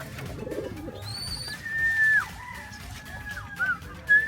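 Pigeons in a racing pigeon loft give soft, low coos close by, with a few thin whistling calls over faint background rustle and no talk.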